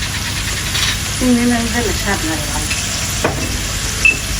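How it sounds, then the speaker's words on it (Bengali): Onions fry in a pan for a greens-and-shrimp dish, a steady sizzle with occasional stirring scrapes, close and fairly loud, with a voice briefly audible over it. "তাই ঠিক আছে পেঁয়াজ ভাজি হোক"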